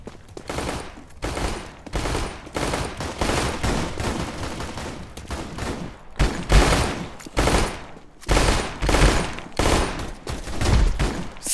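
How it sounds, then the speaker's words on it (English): Gunfire and grenade blasts from a shooter video game at a BLAST Bounty esports quarter-final, heard as a rapid series of loud bursts that pulse repeatedly and steadily throughout, with no speech. "Cheeky double nade."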